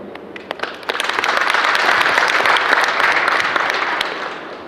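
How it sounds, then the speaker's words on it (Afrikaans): Audience at a community presentation gives a sustained round of applause, dense clapping from many hands, fairly close and loud, holding steady for several seconds before easing slightly. "Julle kan maar vir julleself hande klap."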